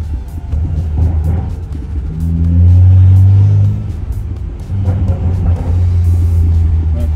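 A BMW 335 with a new exhaust revs hard, its deep rumbling note rising into a loud sustained roar, dropping back, then swelling again, heard up close.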